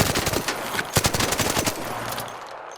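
Rapid automatic gunfire from an extended-magazine weapon in the shooter game ARC Raiders, a dense burst of close, loud shots with brief gaps, tapering off near the end.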